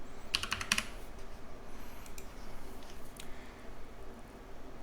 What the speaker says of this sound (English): you can right-click on the black caret at the top, select Edit, and then you can type in a value